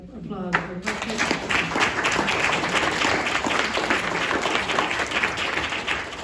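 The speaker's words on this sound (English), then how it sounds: "I think that all deserves a round of applause" Applause from an audience at a district classified staff appreciation and longevity recognition celebration, sustained clapping filling the room for several seconds after a brief voice at the start.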